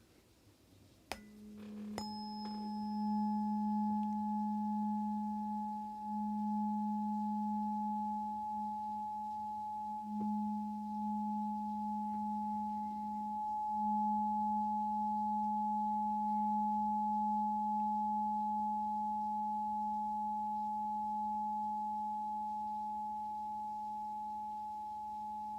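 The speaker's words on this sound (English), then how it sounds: "When I combine two tones together, fascinating." Two steady sine tones sound together, one low and one higher, both entering after a brief click and holding unbroken and loud for over twenty seconds with a faint beating texture.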